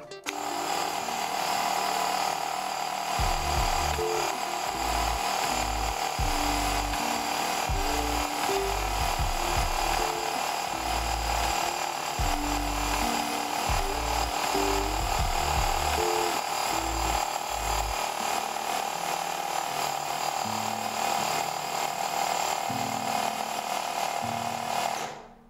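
A Graco Ultra QuickShot handheld paint sprayer runs while spraying water, a loud, steady motor drone with a rapid pulsing pump chatter underneath that continues throughout.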